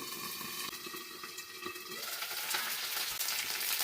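Curry leaves dropped into hot oil with popped mustard seeds, giving a loud steady crackling sizzle that grows fuller and harsher in the second half, close and with no talk.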